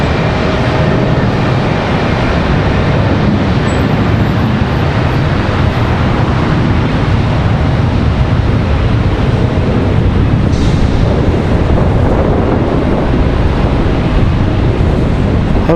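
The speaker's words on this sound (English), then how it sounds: "But I do hear a 777, it sounds like." Boeing 777 jet engines at Charlotte Douglas International Airport, a loud continuous broadband roar with wind buffeting, steady throughout and without talk.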